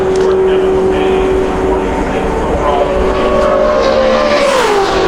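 A NASCAR Nationwide Series car on a qualifying lap at Talladega Superspeedway, its engine a loud steady drone that holds pitch and then drops as it passes, under commentators' voices.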